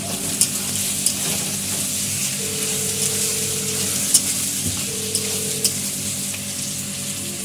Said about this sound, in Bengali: আমরা লাল লাল করে পেঁয়াজটাকে ভেজে নেবো